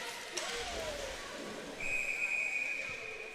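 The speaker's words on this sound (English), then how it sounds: "And the whistle called." During a para hockey game in an arena, a referee's whistle gives one sustained shrill blast of over a second, rising above the low hum of the rink and crowd.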